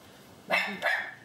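A small dog named Maya gives two quick, loud barks close by, the second following shortly after the first.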